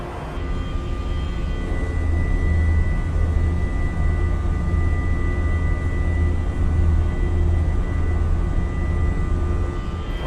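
Embraer E190 airliner climbing after takeoff from Rosario in Microsoft Flight Simulator, a loud, steady jet engine roar with a sustained low rumble and constant whine, unbroken throughout.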